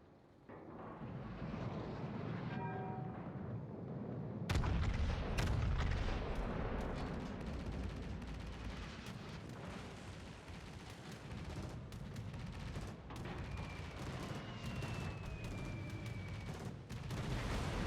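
Heavy naval gunfire from warships rolls through a World of Warships battle with a Vermont battleship, as deep booming salvos and sharp crackling shots pile up over a constant loud rumble with whistling shells overhead.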